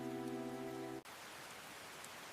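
Steady rain falls evenly, a soft continuous hiss with no voices, preceded by a brief sustained tonal hum that cuts off abruptly.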